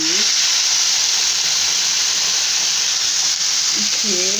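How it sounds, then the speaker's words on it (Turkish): Water poured over toasted rice in a hot pot for pilaf erupts into a loud, steady sizzle and steamy hiss that holds throughout, while someone talks over it. "kavrukladığım pirincin üzerine 4 su bardağı su ilave edeceğim"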